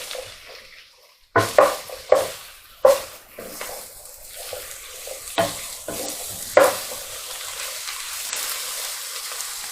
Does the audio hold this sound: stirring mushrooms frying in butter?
yes